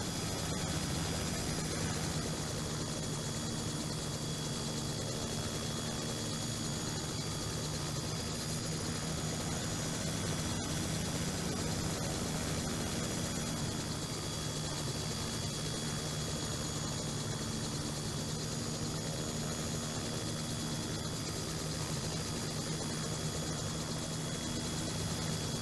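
A helicopter engine in the SimCopter flight game drones steadily while landing, a constant loud whirring hum with rotor buzz, unchanging throughout and with no voices.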